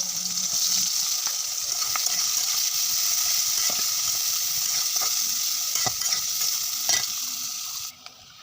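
Spice paste frying in a pan with cinnamon and cardamom, a loud steady sizzle with occasional scraping stirs throughout, then cutting off abruptly near the end, with no one speaking.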